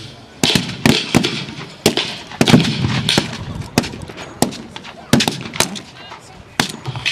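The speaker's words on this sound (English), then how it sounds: "the machine gun fire forces the Boers to seek cover" Machine gun fire during a Boer War battle reenactment, heard outdoors as sharp, loud cracks in short bursts and single shots spread irregularly across the field, with some blank-fire reports in the distance.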